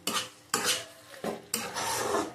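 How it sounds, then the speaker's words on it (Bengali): A spoon scraping and stirring food in a metal cooking pot during a braise, four quick scraping strokes in a row, close and loud with no talk. "এবার নাড়িয়ে নেবো ভালো করে।"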